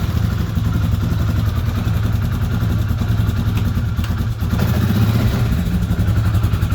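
A 2006 Hoss CFMoto 4x4 side-by-side engine idles steadily, a loud, close, continuous mechanical chug with a faint clatter throughout, no speech.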